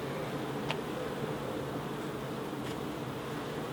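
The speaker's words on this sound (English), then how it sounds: "There is a lot of bees, look" Honeybees in an opened hive before winter give off a steady, dense buzz that holds close and even throughout, with a couple of faint ticks over the drone.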